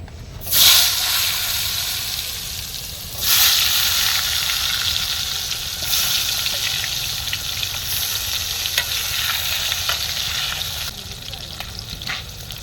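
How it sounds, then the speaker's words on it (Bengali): Potatoes fry in hot oil in a home kitchen: a steady, close hiss of sizzling runs throughout, with two louder surges near the start and occasional stirring scrapes. "এবার আলুগুলো ভাজা হবে"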